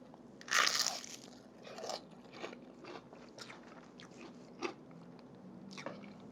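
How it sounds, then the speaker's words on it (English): Close crunchy bites into red ale onion rings dipped in jerk ketchup, a loud crisp crunch at first followed by softer chewing crackles and a few sharp snaps, with no talking. "I want you to listen to this crunch."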